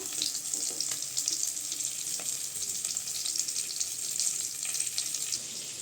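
Sardines frying in a pan give a steady, close hiss of sizzling oil with small crackles and pops throughout, with no one talking.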